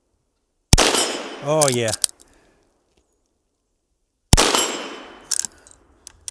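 Henry .22 Magnum Mare's Leg firing at steel plates outdoors: two sharp, loud reports a few seconds apart, each followed by a brief ring, with a short spoken exclamation between.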